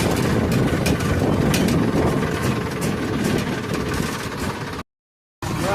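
A tractor engine runs steadily during cumin threshing, a loud, close, continuous rumbling drone that cuts out to a brief silence near the end before resuming.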